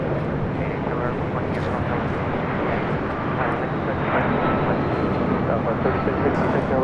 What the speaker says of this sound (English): 747 that just flew over us